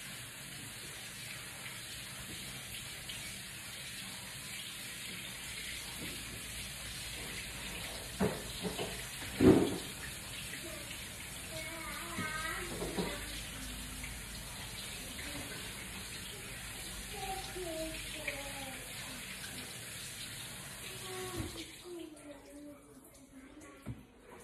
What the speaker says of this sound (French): Je rince mon riz.